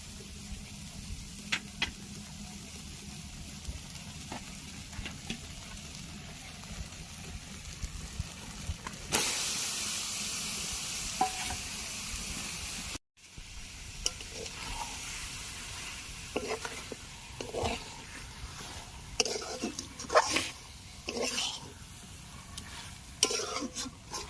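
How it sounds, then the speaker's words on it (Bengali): Chicken sizzles and fries with spices in a hot pan without oil, a steady crackling hiss broken by stirring scrapes and a brief louder burst of searing. "এবারে মাংসটা দিয়ে দেব এই মশলার সঙ্গে"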